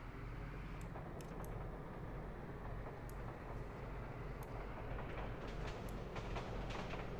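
Freight train running in the video game Workers & Resources: Soviet Republic, a steady rumbling roll with faint clickety-clack of wagons, heard alone at low level.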